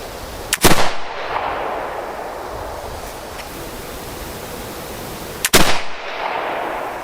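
Two shots from a flintlock smooth-bore pistol several seconds apart, each a crackling ignition followed by a loud boom and a rolling outdoor echo, over steady wind-like background noise.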